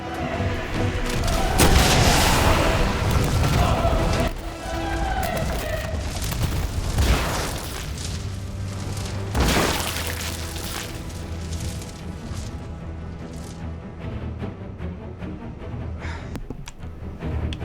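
Anti-tank rocket launcher in Resident Evil 2 firing and blasting, heavy booms and rumbling explosions with a loud opening burst and another strong hit midway, trailing off into lingering low rumble and game ambience.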